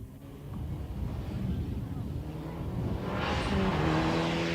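A Mitsubishi Galant rally car on a tarmac stage at the 1994 Jordan International Rally, its engine growing from a distant hum to a louder rising roar with wind buffeting the microphone.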